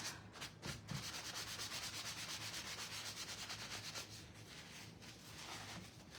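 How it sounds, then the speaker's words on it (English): Cloth or pad rubbing steadily over a Thanksgiving wreath to wipe off excess product, a close, continuous scrubbing with rhythmic back-and-forth strokes throughout, no talking. "And I'm just wiping off the excess."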